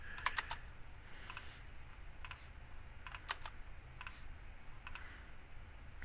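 Computer mouse clicks in quiet clusters, small double and triple taps spaced every second or so over a low steady room hum, faint and close.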